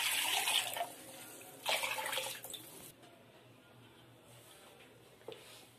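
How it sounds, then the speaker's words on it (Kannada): Water is poured from a rinsed spice-grinding jar into a pot of homemade fish curry, a splashing pour in two bursts over the first three seconds, then quieter trickling and a faint drip. "ನಮ್ ಸಾರಿಗೆ ಎಷ್ಟು ಬೇಕಷ್ಟು ನೀರು ಸೇರಿಸ್ತೀನಿ"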